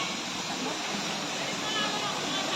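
Ragatak Falls in Maragondon, Cavite sends up a constant, dense roar of falling water, loud and unbroken from start to finish.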